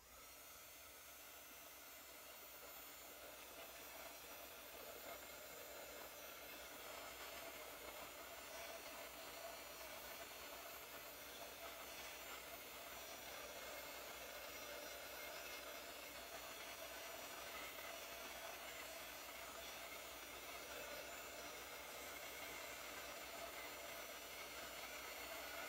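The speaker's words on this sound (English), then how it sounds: "So what I'm gonna do is dry this with a heat tool." Heat tool drying a wet layer of Perfect Pearls, running as a steady, faint blowing hiss with no breaks for the whole stretch, heard alone without talk.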